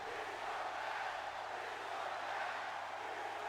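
A disgruntled arena wrestling crowd in WWE 2K26 gives off a continuous dense roar of booing and murmuring, steady and evenly loud throughout, with no single voice standing out.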